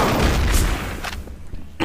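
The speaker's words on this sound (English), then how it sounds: "Let's all nade each other now." Grenade blasts erupt in Counter-Strike: Source, a dense, loud roar of explosions with a heavy boom around the middle that tails off into scattered rumbling.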